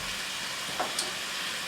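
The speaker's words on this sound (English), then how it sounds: "You hear that starting to sizzle up real good." Pork chops seasoned with Lawry's sizzle in a hot pan, giving a quiet, steady hiss with a couple of faint pops and no talking.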